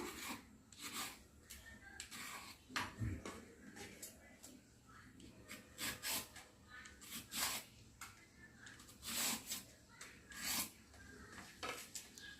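Raw green banana (vazhakkai) skin being lightly scraped off with a knife, a series of short rasping strokes repeating irregularly, fairly close, with speech over parts of it.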